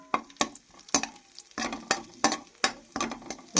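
Cashews and raisins frying in a pan for pumpkin halwa, stirred with a spoon that scrapes and clinks in a quick uneven rhythm of about ten strokes over a soft sizzle, close up.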